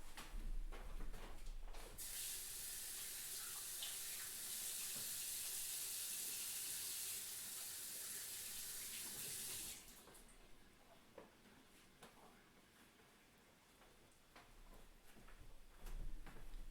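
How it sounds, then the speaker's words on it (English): Tap water runs loudly into a sink for about eight seconds as a hand is rinsed, amid bread dough work in a kitchen, then cuts off, leaving quiet room noise and faint handling sounds. "Let me go give my hand a quick rinse"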